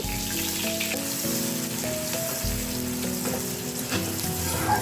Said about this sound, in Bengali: তেলের উপর 2টা শুকনা মরিচ আর পেঁয়াজ কুচি দিয়ে দিলাম।